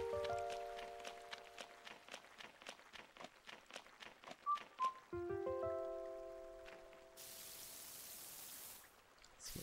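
Rain falls in Animal Crossing City Folk, a soft steady hiss beneath plucked, chiming game music that swells into a louder wash of rain near the end.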